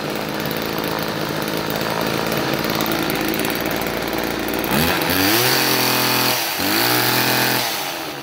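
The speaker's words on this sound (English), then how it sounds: "Pretty good little running saw." A Homelite XL chainsaw running close by, a loud buzzing idle that jumps into sharp revs with rising and falling pitch in the second half.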